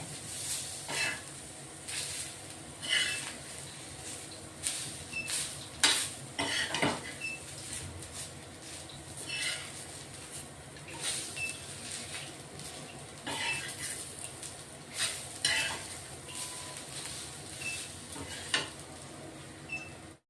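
Ten to twelve garlic cloves and a few ginger pieces are dry-roasted in a pan for masala, with a soft sizzle under frequent close clinks and scrapes of a spoon against the pan.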